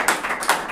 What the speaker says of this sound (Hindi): उन बच्चों के लिए जोरदार ताली बजाइएगा।